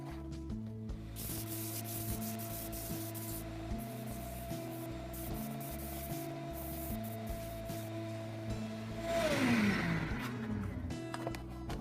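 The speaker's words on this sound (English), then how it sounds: "When you sand, remember, hold your material at the bottom and be careful." Wooden bowl spinning on a lathe under sandpaper, giving a steady droning motor hum with a broadband rubbing hiss throughout, swelling louder near the end as the motor pitch falls while the lathe winds down.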